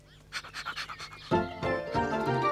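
A dog panting in rhythmic quick breaths at close range for about a second, followed by louder overlapping rustle and clatter on a farm near a barn.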